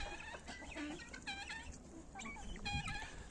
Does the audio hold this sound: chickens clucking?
yes